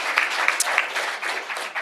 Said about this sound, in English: How about an applause for those two teams?